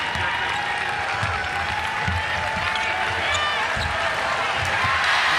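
Applause and a steady roar fill a basketball arena as the crowd rises in the final seconds of a Big East Championship game between UConn and Villanova, holding loud throughout, with sneaker squeaks and a commentator's voice over it.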